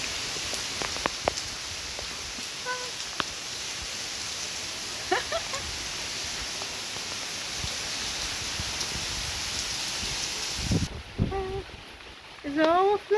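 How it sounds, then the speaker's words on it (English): Steady rain pours down outdoors in a continuous soft hiss, with a few birds chirping faintly in the background. "I'm getting drenched in the rain"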